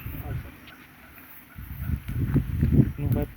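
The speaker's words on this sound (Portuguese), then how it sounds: "Mas o vento agora é alto." Strong wind gusts rushing and buffeting outdoors beside a bonfire burning household rubbish on a rural smallholding, a steady roar that swells louder toward the end, with people talking nearby.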